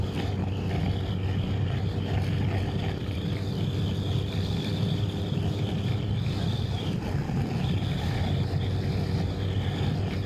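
A Kawasaki ZZR motorcycle engine holds a steady 3,000 RPM on the road, a continuous low drone blended with heavy wind rush, loud and unbroken throughout.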